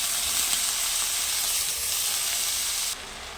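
Spiced masala sizzles loudly in a pan as potatoes and yardlong beans go in, a steady broadband hiss holding evenly for about three seconds, then dropping slightly quieter near the end.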